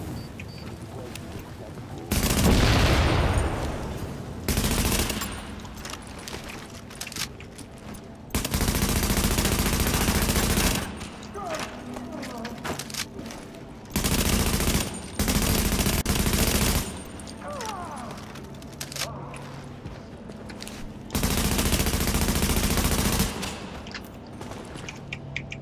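Bursts of automatic gunfire in The Division video game, loud rapid volleys lasting a second or two each, separated by quieter gaps of ambient game sound and some talk.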